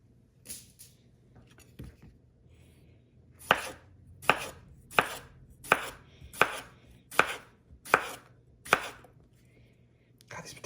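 A knife chops small potatoes on a cutting board, a steady run of about eight crisp, evenly spaced whacks following a couple of lighter taps, close and clear over a quiet room hum.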